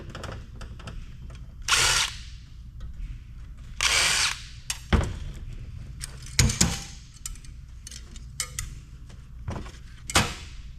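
Power drill working screws loose from the cast aluminum housing of a hard drive, several short whirring bursts separated by pauses, with clicks and handling clatter in between, close and moderately loud.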